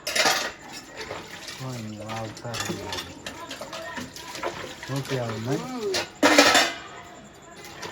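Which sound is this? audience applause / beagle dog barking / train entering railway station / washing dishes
washing dishes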